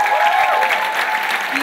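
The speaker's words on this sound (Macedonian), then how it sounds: "А сега исто така, огромен аплауз за Кика Лиловац и Јана Косовска од Pitch." An audience at a live event breaks into applause, a dense, loud burst of clapping that fills the whole short clip with a speaker's voice heard over it.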